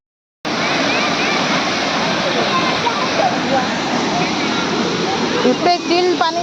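Rabandhara waterfall near Bhawanipatna pours with a loud, steady broadband roar that starts abruptly and holds throughout, with a few voices breaking in faintly near the end.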